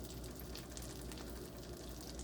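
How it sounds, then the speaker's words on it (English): French toast sticks fry in a hot pan, giving a faint, steady sizzle and crackle of the egg-soaked bread in oil, continuous with no talking. "I'm gonna let that sizzle."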